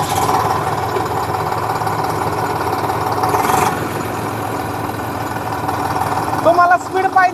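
A John Deere 5050D or Eicher 548 tractor engine idling smoothly, a steady close diesel chug that holds evenly throughout, with a brief louder burst near the end and someone talking over it.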